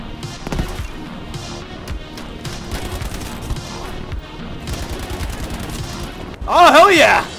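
Gunfire in the shooter Battlefield 5 on the Mercury map, a busy stretch of shots and battle noise with a loud burst near the end, heard over game sounds and a voice.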